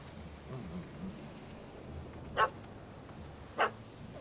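Two sharp, short dog barks from a puppy in The Witcher 3, spaced about a second apart over a quiet game ambience, fairly distant and moderate in level with no one talking.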